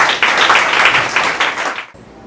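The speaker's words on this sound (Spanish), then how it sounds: "Así que le damos un fuerte aplauso y le invitamos a presentar." Brief, lively audience applause greeting a presenter at a university book launch in Quito, steady clapping for about two seconds that then cuts off.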